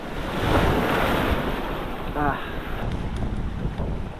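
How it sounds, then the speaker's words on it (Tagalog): Ocean surf rolls and crashes in a constant wash at a shorecasting fishing spot, with wind buffeting the microphone and a brief voice in the middle. "Alon."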